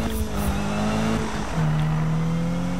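A race car engine roars in the Need for Speed video game on PS4, revving with steady high-pitched tones that drop as it shifts gears, loud and continuous with no talking.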